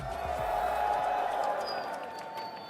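A sold-out arena crowd at a League of Legends esports match in the STC Arena, a broad roar of cheering that swells and then slowly fades, heard at a distance with a commentator's voice over it.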